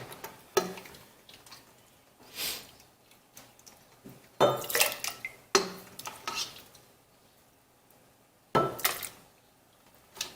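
Blood orange juice and fruit are ladled into two pans in a home kitchen: sharp clinks and taps of utensils against metal, with soft pouring and stirring between brief quiet gaps.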